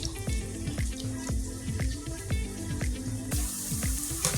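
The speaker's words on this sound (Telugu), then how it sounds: "క్యారెట్ కూడా చిన్న చిన్న ముక్కల కింద కోసేసుకున్నాం కాబట్టి ఇవి కూడా వాటర్లో శుభ్రంగా కడిగేసుకోవాలి" Chopped carrot pieces are washed in water, giving quiet, rhythmic splashing and sloshing with a slight brighter rush of water near the end.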